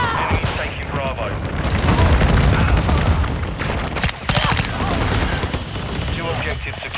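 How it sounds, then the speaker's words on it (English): Rapid gunfire and heavy booming explosions from a stealth bomber airstrike in a Shipment domination match of a shooter game, dense and continuous, with game voice callouts over the top. "Friendly stealth bomber on the way."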